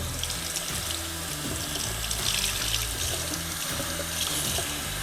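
A hair prosthesis rinsed under a running tap, a steady splashing stream of water drumming and gurgling over it, loud and close without pause.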